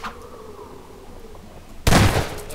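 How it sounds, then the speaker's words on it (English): A shotgun fires once in Half-Life 2, a single loud, sudden blast near the end that stands out sharply from the quieter game background. "There goes my shotgun ammo."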